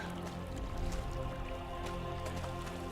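Water in a video game, a soft continuous liquid drip and trickle with faint splashy ticks, steady and fairly quiet throughout with no talk.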